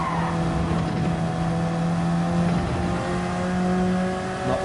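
A BMW M6 race car in Gran Turismo 7 drives the Nürburgring from the in-car view, its engine droning loud and steady with sustained tonal harmonics that rise and fall slightly through gear changes.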